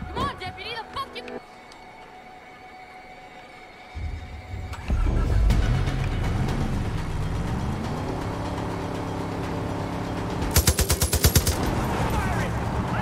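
Mounted heavy gun fired from a vehicle in the video game Far Cry 5, heard as a short loud burst of rapid shots over a running engine, with game voices talking.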